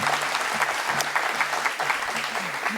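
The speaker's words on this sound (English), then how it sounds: "please give them a warm applause" Warm audience applause for two guests of honor at the launch of a sustainable development centre at an institute in India, a full, continuous clapping with faint voices mixed underneath.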